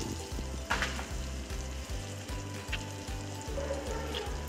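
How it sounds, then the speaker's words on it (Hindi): Sesame seeds sizzling in a hot pan while a soya chunk salad is prepared, a steady crackling fry with a regular pulsing rhythm and a few sharper pops, close and moderately loud, no talking. "और यहाँ पर एक चम्मच तिल डाल देंगे"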